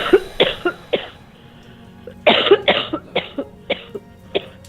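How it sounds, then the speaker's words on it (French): Repeated coughing, with close, harsh bursts that come in two clusters: a few coughs at first, then a louder run after a short pause, ending in single spaced coughs. "Toussez dès que vous pouvez."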